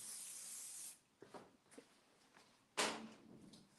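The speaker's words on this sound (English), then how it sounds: "you really now want to work the hairspray into the hair and really spray a lot" Hairspray hisses from a can in two bursts, a long steady spray at the start and a shorter one near the end, close and fairly loud, with faint handling clicks in between at a fashion week backstage.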